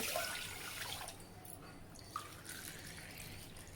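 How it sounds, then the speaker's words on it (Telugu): Water is poured over soaked rice in a vessel, starting as a louder splashing stream that eases into a gentler trickle with a brief splash near the middle, close and without voices. "three cups water పోసుకున్నానండి"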